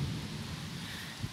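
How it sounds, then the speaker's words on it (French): Heavy rain pours steadily during a moderate summer thunderstorm over Grenoble, Isère, with a low rumble of thunder beneath the constant hiss. "T'as la tempête là-haut, la tempête, madone."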